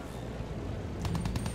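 Gunfire in the Battlefield 1 campaign, mission 9 (Forte et Fidele): a quick run of sharp shots in the second half, rising out of a steady wash of battlefield noise.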